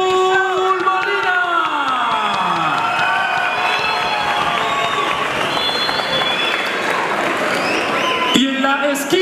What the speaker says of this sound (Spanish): recibamos con un fortísimo aplauso a Alfredo, el Pitbull Marina